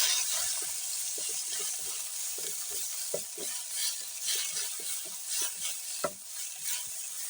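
Green onions and tomatoes fry in a pan over a village cooking fire, with a steady broad sizzle and scattered scraping stirs and clinks close by, no talk.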